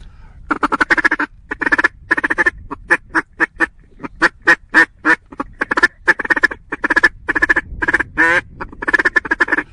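A soft mallard duck call sounds in a long series of short quacks, steady and rhythmic, fairly loud and close, with a brief rolling chatter near the end.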